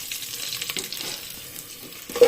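Cashews, onions, carrot, cauliflower and beans frying in oil for a vegetable biryani, a light crackling sizzle with scattered pops and a stirring clatter near the end.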